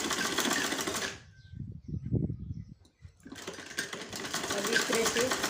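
Sewing machine stitching the side fitting seam of a salwar, a fast buzzing run that pauses briefly for a second or two of short stuttering stitches, then resumes, with someone talking over it.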